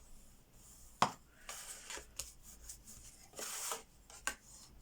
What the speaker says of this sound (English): Give that a bit more of a burnish.